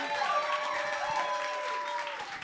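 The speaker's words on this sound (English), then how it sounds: "Let's give him a big round of applause, everybody." Audience applause welcoming comedian Byron Graham at an open music session, a steady wash of clapping with some crowd noise and faint tonal music or voices running underneath for its whole length.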